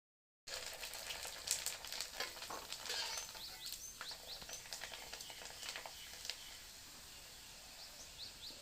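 Jeng pitha frying in hot oil in a kadai for Bihu, giving a steady, moderately quiet sizzle and crackle with scattered pops that runs throughout, no voices.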